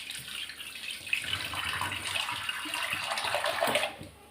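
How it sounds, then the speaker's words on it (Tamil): Water pours into a cooking pot of mutton kulambu gravy seasoned with turmeric and rock salt. A close, splashing stream rises over a few seconds and then stops abruptly, with no one speaking. "கொஞ்சம் தண்ணி விட்டுப்போம்."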